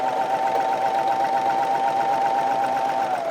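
A Brother Airflow 3000 serger stitches fabric tabs with a steady, even mechanical whir that holds at a constant pitch throughout, close by and without speech.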